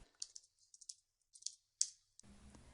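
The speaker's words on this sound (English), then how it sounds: "Now I'm going to type localhost," Quiet computer keyboard typing, a series of light, crisp keystroke clicks in small clusters, followed by a low hum at the end.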